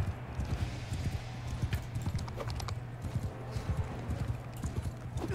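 Horse hooves clip-clop in a rapid, uneven rhythm in the video game Mount and Blade Bannerlord, moderately loud and steady throughout, with other game sounds faintly underneath.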